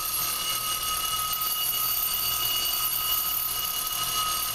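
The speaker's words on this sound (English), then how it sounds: "Let's listen to this alarm." A Westclox Baby Ben 11611A classic wind-up alarm clock rings continuously, a bright, steady metallic bell rattle held at an even level throughout.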